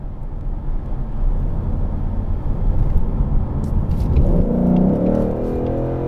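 A 2021 Ford Mustang GT with the 300A package and a 4.10 axle ratio revs its V8 engine, a loud, steady rumble that swells into a deeper, rising roar near the end.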